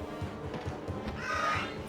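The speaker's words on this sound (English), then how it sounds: "Funny bird noise." A crow caws in the Fire Emblem Radiant Dawn video game, several short harsh calls in quick succession, moderately loud over a faint background.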